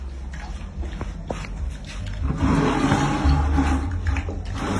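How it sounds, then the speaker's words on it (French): Tap water runs from a faucet in Brazzaville, starting as scattered splashes and knocks, then swelling into a steady, louder rushing gush that continues to the end, with no talking. "Voici l'eau qui sort du robinet à Brazzaville."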